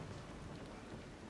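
Stormy weather at sea in the Pillars of Eternity 2 video game: a steady, dense wash of heavy rain with a low rumbling undertone of thunder and wind, continuous and fairly loud throughout.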